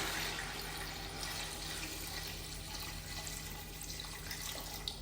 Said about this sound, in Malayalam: നമുക്ക് നേരത്തെ എടുത്ത് വെച്ച വെള്ളം ഇതിലേക്ക് ഒഴിച്ചു കൊടുക്കാം